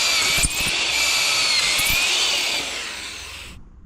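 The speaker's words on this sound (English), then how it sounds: "I've got to drill a shitload of holes in this" A power drill bores into a metal car muffler with a steady high-pitched whine and grind. It runs close and loud for a few seconds, then winds down and stops.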